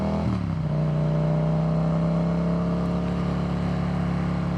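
Yamaha MT-07 motorcycle fitted with an Akrapovic carbon exhaust, its engine revving up at the start and then holding a loud, steady, droning idle close by.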